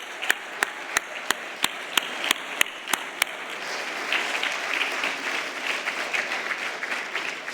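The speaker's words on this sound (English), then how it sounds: "Let's give them one more big round of applause as they take their seat." An audience at an awards dinner applauds in a broad, steady wash of clapping that carries on through the clip, with a few sharp, evenly spaced clicks standing out over the first few seconds.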